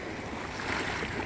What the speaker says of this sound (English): You gotta love the sound of the waves coming in.